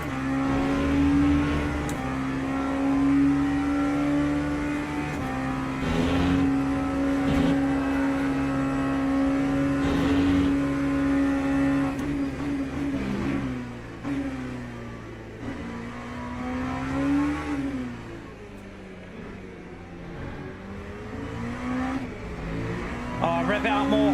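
An LMP2 prototype race car in Le Mans Ultimate holds a loud, steady engine drone, rising and dipping through revs and gear shifts, with a closer surge and fade toward the end.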